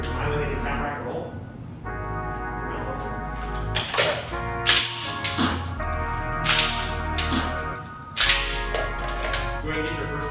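Sharp mechanical clacks and snaps from a training pistol during a tap-rack malfunction drill in laser-simulation security guard training, a run of clicks and slides with a faint ringing hum underneath.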